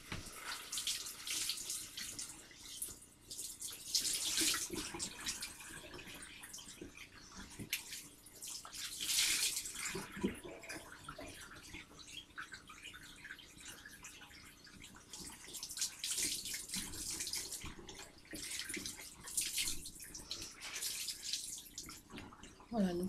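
Water running steadily from a bathroom sink tap while a face is rinsed, a soft continuous splash with faint surges and drips, close by and fairly quiet.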